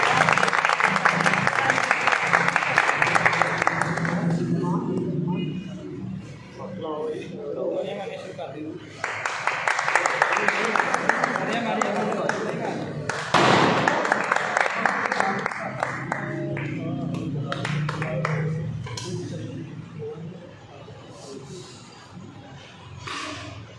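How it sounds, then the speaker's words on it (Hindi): Loud applause from an audience at a team achievement celebration, two sustained bursts of clapping with a shorter swell later, mixed with someone speaking and crowd noise between the bursts. "जोरदार तालियां"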